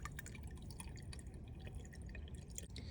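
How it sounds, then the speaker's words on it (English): Vinegar poured into a furnace condensate drain gives a steady close trickle and dripping of liquid, with a dense watery patter that runs throughout and no voices. "I'm going to pour some vinegar down the drain"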